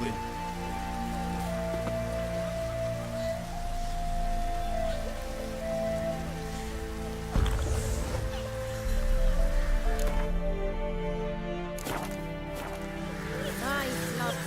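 A heavy rain downpour in The Witcher 3 drums steadily on the ground and surfaces, with game music tones and character voices talking over it and a few thuds and movement sounds.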